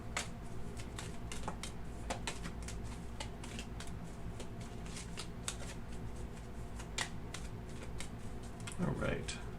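Tarot cards are shuffled close up in a quick run of crisp riffles and soft flicks over a quiet hum, with no voices heard.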